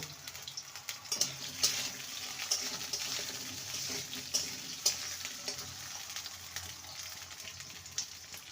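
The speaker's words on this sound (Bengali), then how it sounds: "লম্বা লম্বা করে আলু নিয়েছি আলুটাকে ভেজে নেব" Soft, continuous sizzle of long-cut potatoes frying, with occasional sharp clinks and scrapes of a utensil against a pan, fairly quiet and without voices.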